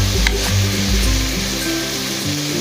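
Water poured into a hot pan of frying fish hisses into a loud, steady sizzle and bubbling that fills the whole moment without any talk.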